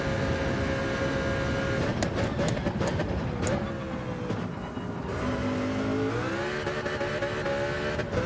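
A race car lapping a circuit in Gran Turismo 7, its engine revving up and down through gear changes in a loud, continuous drone.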